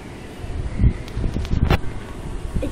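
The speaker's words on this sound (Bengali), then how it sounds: "এখানটা খুব হাওয়া দিচ্ছে," Wind blowing across a flat's balcony buffets the microphone in uneven low rumbling gusts over a faint steady background, with no talk.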